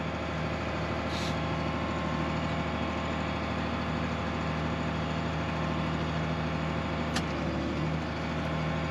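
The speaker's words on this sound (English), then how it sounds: "Let my lever down. Planter goes to work." A tractor with auto steer hums steadily while pulling a soybean planter through a field, a constant droning engine with faint brief clicks and no voices.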